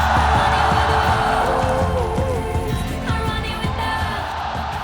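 A large esports arena crowd cheers and roars steadily throughout, a dense, loud wash of voices with occasional whoops rising out of the noise.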